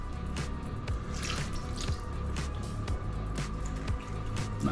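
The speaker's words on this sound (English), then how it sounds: "This is apple cordial. A little bit in." Apple cordial pours in small trickles and drips into a dish during kitchen cooking prep, with a close, steady splashing that comes and goes in uneven spurts against soft background noise.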